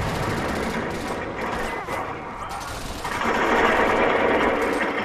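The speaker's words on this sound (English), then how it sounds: "Shoot the bad guys, they're shooting you right now." Rapid gunfire from the open-world action game Crackdown rattles loudly and continuously, with a dense clattering burst that swells louder near the end, mixed with game noise and people talking over it.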